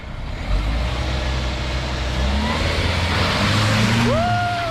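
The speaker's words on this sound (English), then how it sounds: "I'm gonna spin the tires" A 2021 Ford Bronco Sport spins its tires on a muddy surface, its engine droning loudly and steadily, with a rising squeal as the wheels break loose toward the end.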